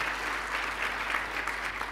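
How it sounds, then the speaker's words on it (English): A large congregation at a church crusade sermon applauds in a steady, dense wash of clapping that holds evenly for two seconds, a broad crowd sound with no voices standing out. "Clap your hands. Tukuza Mungu kwa makofi."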